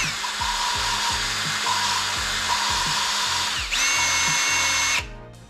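A power drill lapping engine valves whirs steadily up close, its motor pitch shifting slightly, with a rhythmic grinding knock beneath it before it stops.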